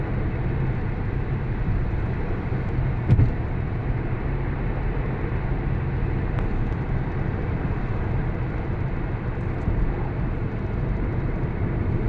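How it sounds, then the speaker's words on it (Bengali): A car cruises at speed across the Padma Bridge, giving a steady low road and engine rumble heard from inside, with a brief knock near the start. "ওখানে এখন 100-এ গাড়ি চলতে আছে।"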